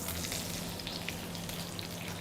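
Oil poured over leaf-wrapped kuzhimandi kizhi sizzles in a steady, close hiss that holds for a couple of seconds with no one speaking.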